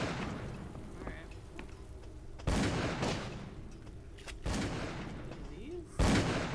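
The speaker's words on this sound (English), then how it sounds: "The gunshots are coming from here." Several sharp video game gunshots from Call of Cthulhu: Dark Corners of the Earth ring out at irregular intervals, each a loud crack with a short echoing tail, over a quiet low background.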